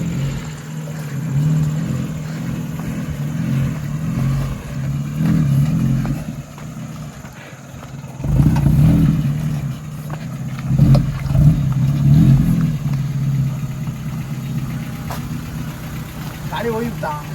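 Engine of a Maruti Gypsy 4x4 revving and idling on a rocky jungle track in Karnataka, a steady mid-pitched drone that surges louder in bursts, with people talking over it throughout.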